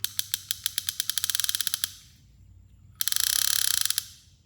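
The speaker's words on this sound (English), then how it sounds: "And the clicker sounds like this." A Zebco 33 Max fishing reel's bait clicker ratchets as line pulls out: a rapid run of sharp, close clicks that speeds up, pauses, then bursts again in a fast buzzing series, with no talking.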